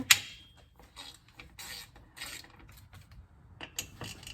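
Loosening the tightly torqued muffler bolts on a Husqvarna 572XP chainsaw with a hand tool, giving close ratcheting clicks and metallic creaks in short irregular bursts with quiet gaps; no talking.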